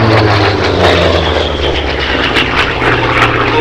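A loud propeller warplane roars steadily overhead at the Sywell air display, its engine drone filling the whole stretch without a break and with no voices.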